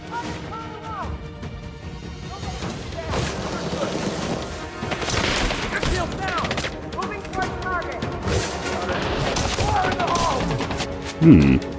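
Ship weapons in Elite Dangerous firing on an Imperial Corsair during bounty hunting, heard as dense, continuous bursts of rapid shots with crashing impacts under a steady mix, plus a louder thump near the end.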